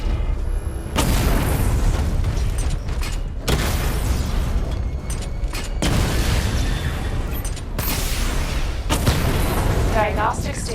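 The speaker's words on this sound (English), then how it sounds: "Destroy targets to charge up weapon energy and activate missile barrage." Heavy missile-barrage explosions from the Batwing-style weapon in Batman: Arkham Knight crash in a rapid series of loud, booming blasts, each with a long rumbling tail, back to back with only short gaps between them.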